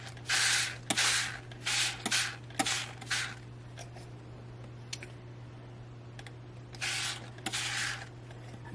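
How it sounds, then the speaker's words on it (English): A spray bottle filled with instant coffee mix gives about seven short, hissing squirts in uneven clusters over a steady low hum in a quiet craft room. "I have a spray bottle with some instant coffee mix in it."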